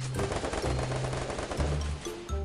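Rapid bursts of automatic gunfire from a shooting video game rattle in quick succession, fairly loud and continuous, with short gaps between volleys and no voices over them.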